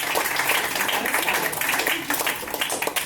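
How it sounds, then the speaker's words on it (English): An audience claps and applauds, a dense steady wash of clapping throughout, fairly close. "Can we get one more applause"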